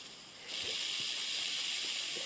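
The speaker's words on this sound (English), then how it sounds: "And it's starting to steam." A steam iron starts to hiss, a sudden steady high-pitched rush of steam that switches on and holds continuously, fairly close, with faint low gurgles and bubbling beneath and no speech.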